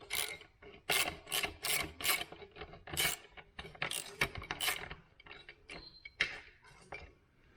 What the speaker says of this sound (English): Now you can go ahead and tighten down all your fasteners.